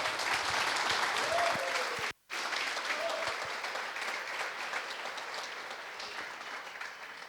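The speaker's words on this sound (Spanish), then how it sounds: "Un aplauso para los chicos." A crowd at a talk on Web3 funding applauds the speakers, sustained close clapping that carries on past a brief dropout, with faint voices beneath it as it slowly eases off.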